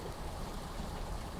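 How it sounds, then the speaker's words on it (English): A backyard landscape waterfall pours steadily, a constant broadband rush of falling water with no other sounds. "And here, the calmness of the waterfall."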